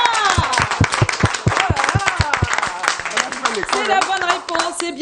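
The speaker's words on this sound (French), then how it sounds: "Est-ce qu'on peut applaudir pour Kuriane?" A studio audience on a French-language open show claps for a contestant's correct answer, sharp close handclaps in a quick uneven burst that thins out, with voices talking over the end.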